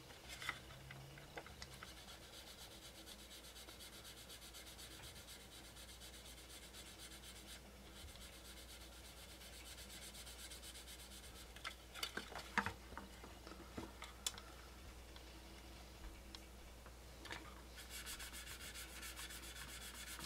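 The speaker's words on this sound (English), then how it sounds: "Now I'm just sanding it until, I've got a good amount of the buildup here of the primer" Steady soft rubbing and scraping of sandpaper on primer on a 1:24 scale Nissan Silvia model car body, continuous and close, with a few sharper scratches and taps partway through.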